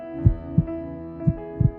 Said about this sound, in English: The heartbeat is controlled by electrical waves which travel across the heart, causing the muscle to contract and relax.